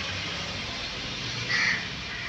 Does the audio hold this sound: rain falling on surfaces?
no